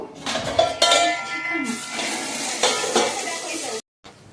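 Spice paste being stirred and fried in oil in a pan for a spicy chicken dish. A spoon scrapes and clanks against the metal pan over a steady sizzle, with a few sharper knocks.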